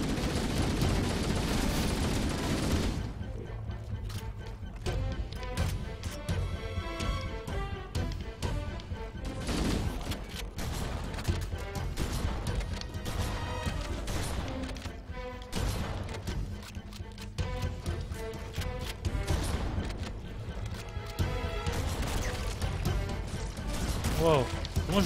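Explosion in the Halo video game, a loud burst that breaks off an opening stretch of dense noise, followed by scattered impacts and crackling debris over about twenty-five seconds, with gunfire-like bursts in a game mix.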